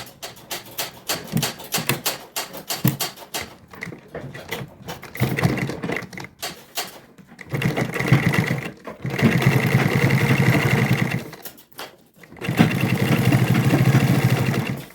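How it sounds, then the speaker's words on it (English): A sewing machine stitches a quilted tote bag in several bursts, running in a loud steady whir for a few seconds, then pausing and starting again, with quick rapid stitching taps at the start. "Then I'm going to stitch it down."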